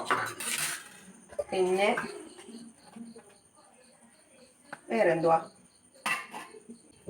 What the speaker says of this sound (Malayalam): പാത്രം കഴുകുപോലെ എനിക്ക് ഇഷ്ടമല്ലാത്തൊരു ജോലി വേറെ ഇല്ല